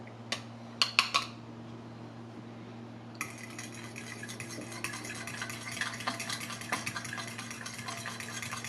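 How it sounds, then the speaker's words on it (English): Wet ingredients for Bulgarian Christmas bread, including salt and oil, are whisked in a bowl: a few sharp clinks at first, then a quieter stretch, then quick, continuous rhythmic scraping and tapping against the bowl over a steady low hum. "So basically we mixed all the wet ingredients together here."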